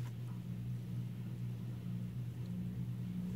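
Steady low engine rumble and road drone inside a moving truck at night, continuous and fairly loud, with no talking.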